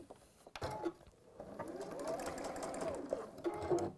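A sewing machine stitching a fabric bag, its motor whirring in a steady rapid run after a few short starts, close and fairly quiet, with a few light clicks at the end.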